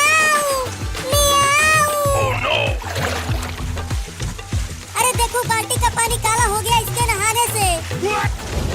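A cat meows repeatedly and loudly in a household bathing scene with a bucket of water. The calls come in several drawn-out, wavering bursts with little pause between them, close to the microphone.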